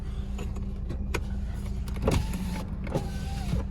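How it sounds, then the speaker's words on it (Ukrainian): Electric power windows on a Renault Megane 3 whir up and down in short motor runs inside the car, close and clear against a low steady hum, with no talking. "Склопідйомники працюють."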